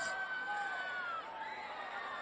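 Spectators at a Ridgeview at South high school football game cheer and roar from a distance in a faint, sustained wash of crowd noise, with a whistle-like tone drifting over it.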